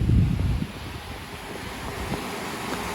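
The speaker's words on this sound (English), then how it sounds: "All that water rushing." Water rushes out of a broken water main in freezing weather in the St Louis area: a steady, broadband roar mixed with wind buffeting the microphone, heaviest in a low rumble at the start.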